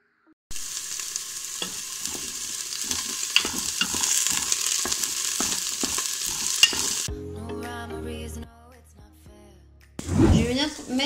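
Small onions sizzle in a preheating Cookeo multicooker, a close steady frying hiss with light stirring knocks for several seconds. It then gives way to a voice talking, with a brief louder burst near the end.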